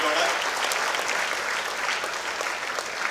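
Audience claps steadily and densely all the way through at an award ceremony held by the Mahatma Gandhi Seva Trust for the 150th Gandhi Jayanti, a full, even wash of many hands with no voices on top.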